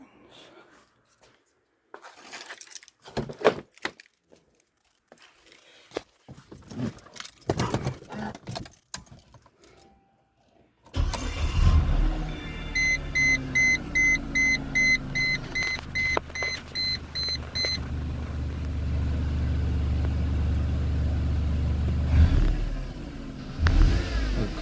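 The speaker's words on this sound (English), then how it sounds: "Let's start up the car." A 2004 Mercedes C230 W203 with the 1.8 engine cranks and fires up close by, settling into a steady idle with dashboard warning chimes beeping repeatedly, after some handling noises in quiet beforehand.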